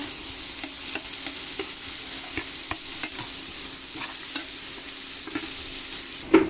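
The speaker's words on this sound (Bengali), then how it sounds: "কাঁচা পেঁয়াজ ভেজে নিচ্ছি" Raw onion fries in a pan for a hilsa-tail mash, a soft continuous sizzle with regular light taps and scrapes of stirring, close and quiet, ending in a louder clatter.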